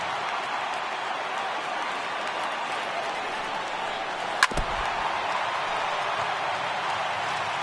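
Stadium crowd in the MLB 18 baseball video game, a steady broad roar of cheering throughout with a single sharp crack partway through.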